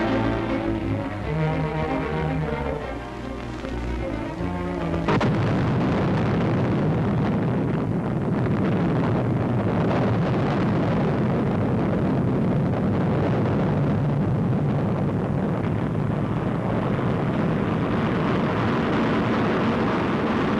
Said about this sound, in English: The 85-foot missile goes aloft in a near-perfect takeoff